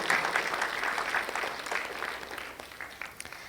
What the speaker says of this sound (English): Can we have a huge round of applause for all the dedicated speakers who shared their real growth with us today?